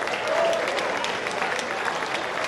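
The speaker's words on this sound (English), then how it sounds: "let's give a round of applause for these two warriors in the ring." Crowd applause for two boxers after a third-round fight in a ring; dense, sustained clapping with some cheering, loud and continuous from a nearby audience.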